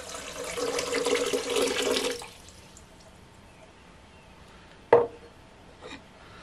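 Lukewarm water runs into a mixer bowl for bread dough. A steady splashing pour lasts about two seconds and then stops, and a single sharp knock or clink follows later.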